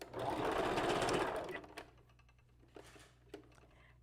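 Sewing machine running for about a second and a half while stitching hair bundles onto a wig, close and fairly loud, then stopping, followed by faint handling clicks and a soft voice.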